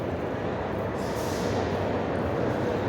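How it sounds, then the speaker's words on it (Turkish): A German ICE high-speed train passing in Frankfurt near a Christmas market, a continuous low rumbling roar of rail noise that holds steady throughout, with no talk. "bu beyaz tren arkamdaki gördüğünüz Almanların hızlı treni, ICE dedikleri tren."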